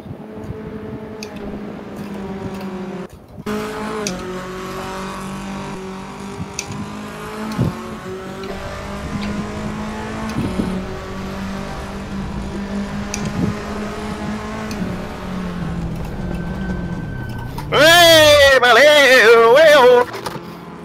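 Fiat Tipo racing car drifts around the Ricardo Tormo circuit in a race, engine droning and revving loudly and continuously near at hand, then a harsh burst of rising and falling revs and tire noise near the end.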